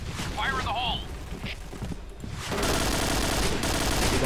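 Bombs go off in a video game as rapid booming bursts and rumbling blasts, sparse at first, then a dense continuous barrage through the second half.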